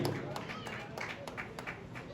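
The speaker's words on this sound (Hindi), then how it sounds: "जोरदार तालियां के लिए" Applause from an audience at a cricket club prize ceremony honouring a bowler, a steady patter of clapping with sharp bursts, with crowd noise throughout.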